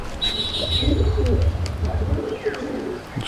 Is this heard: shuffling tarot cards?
no